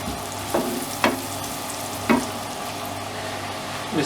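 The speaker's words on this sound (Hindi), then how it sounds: "इसको मक्खन में फ्राई कर लेंगे" Finely chopped onion fries in butter with a steady, close sizzle, and a few sharp scrapes of a spoon stir the pan.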